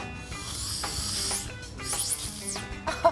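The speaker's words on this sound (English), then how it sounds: "one straw is going to blow across the top of the other straw" Air blown through one straw across the top of another draws up liquid and sprays it, a breathy hissing spray in uneven bursts, close and fairly loud with no talk.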